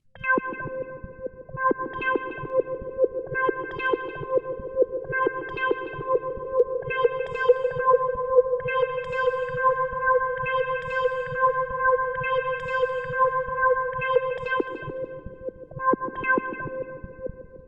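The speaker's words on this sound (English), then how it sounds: "I change the value of the effect, which is the filter and the reverb" A looped synth-like melody on a Boss RC-505 MK2 loop station repeating in bars while a filter sweep and heavy reverb swell and shift its tone, loud and continuous.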